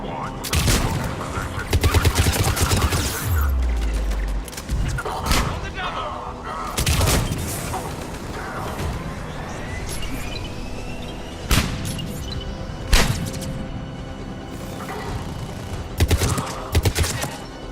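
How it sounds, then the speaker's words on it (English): Gunfire crackles at a checkpoint in Mass Effect 3 on Sur'Kesh: dense bursts of shots and booming impacts go on throughout, loud and close, with indistinct voices mixed in. "Cerberus troops at checkpoint, attempting to kill Proven. Need assistance. Checkpoint! They're under fire!"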